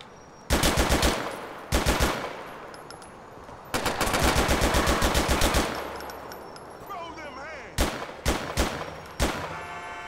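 Video game gunfire in GTA 4 rattles out in loud, rapid automatic bursts separated by short pauses, with a few single shots and some background game sounds between volleys.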